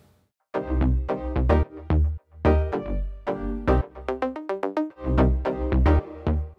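A synth remix of a song plays back, with a deep bass line under punchy staccato chord stabs in a choppy, syncopated rhythm, loud and close with no talking.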